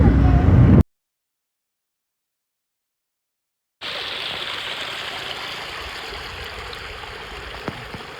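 Rainwater running over a road after a sudden heavy downpour, a steady broadband rushing flow like a stream, close and continuous, after a brief burst of voice and a few seconds of silence.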